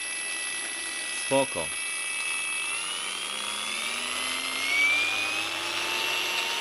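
A power tool with soft start and speed control spins up slowly, its thin whine climbing steadily in pitch. A short spoken word comes early, and the tool runs on continuously.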